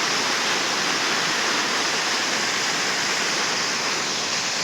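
A waterfall at Mallanagandi reservoir roars in a constant, dense rush of falling water, loud and unbroken throughout.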